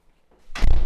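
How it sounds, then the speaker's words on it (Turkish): A door at the entrance of a seaside villa in Didim is pushed shut, ending in a single loud, heavy thud after a brief quiet lead-in. "Bir kapıyı kapatalım."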